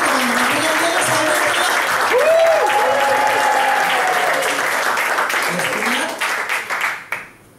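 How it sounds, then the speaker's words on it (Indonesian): A large audience applauds loudly and steadily, the clapping sustained for several seconds before tapering off in scattered claps, with a voice talking over it. "berikan aplaus yang luar biasa buat leader-leader kita"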